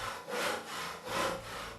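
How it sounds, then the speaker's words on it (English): A hand saw cuts into a giant pumpkin in a rhythmic back-and-forth rasp, two strong strokes close and clear, with no voices. "It was hard work sawing away"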